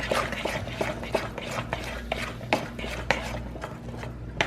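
Banana nut muffin batter stirred by hand in a bowl, with a steady rhythm of soft thick scrapes and regular light knocks of the spoon against the side, close and fairly quiet.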